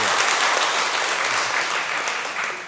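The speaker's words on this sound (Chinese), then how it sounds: "好，我们再一次给汉凯掌声。" Church congregation applauding at a Taiwanese-language worship service, a dense, steady clapping of many hands from start to finish, gradually fading slightly at the close.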